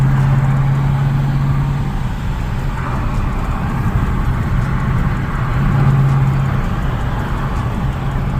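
A car driving at night in sport mode, its engine a steady, loud low rumble with constant road noise from inside the cabin, holding level for several seconds with a slight rise and fall in pitch.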